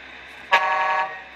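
A second horn tone from the Tamiya MFC-03 RC truck sound unit sounds once after a quiet lead-in, a bright steady honk of about half a second, close and alone.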